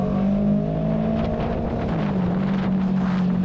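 A motorcycle engine is throttled in comfort mode while riding, giving a steady, droning engine tone whose pitch shifts a little, heard through strong rushing wind noise on the microphone.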